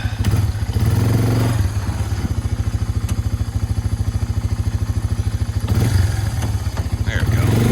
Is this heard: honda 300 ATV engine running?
yes